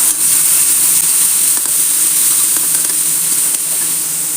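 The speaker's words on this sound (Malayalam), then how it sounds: "ഉള്ളിയും വെളുത്തുള്ളി ചതച്ചതിട്ട് കൊടുക്കാം" Onion and crushed garlic sauté in a hot pan for fish curry, giving a loud, steady sizzle and hiss that carries on alone with no pauses.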